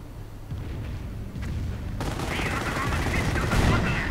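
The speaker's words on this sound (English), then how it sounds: "Anti-tank gun opens up" Gunfire from an anti-tank gun in the Company of Heroes video game, a sharp shot rising into a louder, sustained stretch of battle noise over continuous background rumble.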